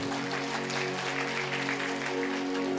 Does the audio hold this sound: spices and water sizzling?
no